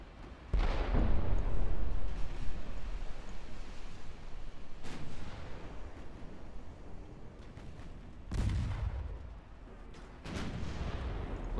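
Naval artillery salvos in the warship battle game Ultimate Admiral Dreadnoughts, several heavy booming shots with rumbling tails spaced a few seconds apart, loud and with no talk over them.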